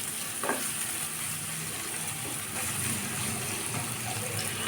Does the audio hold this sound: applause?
no